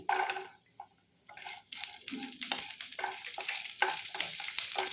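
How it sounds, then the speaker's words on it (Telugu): Garlic fries in a pan with a crackling sizzle, broken by spatula stirs and scrapes that come and go over a few seconds, up close with no voices. "సో ఇవి కొంచెం వేగిన తర్వాత గార్లిక్ వేస్తున్నానండి"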